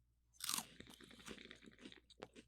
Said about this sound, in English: I am gonna do an ASMR crunchy